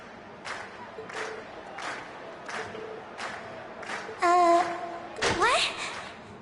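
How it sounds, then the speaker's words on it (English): Video game crowd in Trails of Cold Steel cheering at a concert, a background murmur with rhythmic shouts that builds into louder bursts of cheering and whoops near the end. "we've heard your cheers loud and clear"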